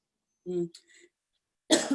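A person coughs twice in short, close bursts separated by a brief pause, with a bit of voiced sound between them.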